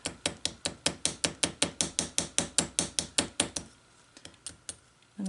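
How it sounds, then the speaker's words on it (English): Riveting hammer lightly tapping a rivet on a hinge, a quick steady run of about twenty close, sharp metallic taps that stops, followed by a few scattered softer knocks. "then I'll use my riveting hammer"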